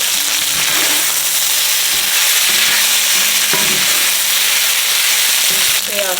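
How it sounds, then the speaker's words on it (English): Beef pieces sear in hot oil for beef and broccoli, making a loud, dense, unbroken sizzle close up, with a low steady hum beneath and a few stirring knocks. "I'm just gonna kind of go ahead and start sauteing it."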